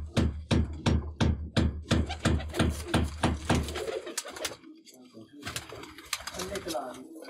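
Pigeons coo in a loft in a quick run of strong, evenly spaced pulses, then quieter cooing continues while someone talks nearby.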